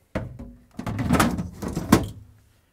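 Plastic drawers are slid back into a Samsung refrigerator, a series of close scraping slides and clunks with a couple of sharp knocks as they seat, no talking.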